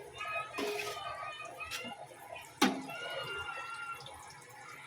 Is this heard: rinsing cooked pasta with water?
yes